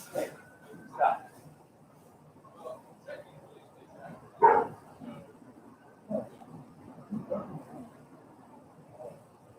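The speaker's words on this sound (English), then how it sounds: "I got my dog barking at random pedestrians" A dog barks in short, scattered bursts at passing pedestrians, the sharp yips and woofs fairly faint and spread across the stretch with gaps of quiet between them.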